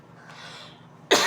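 A single sharp cough bursts out near the end, loud and close, after a stretch of quiet room tone.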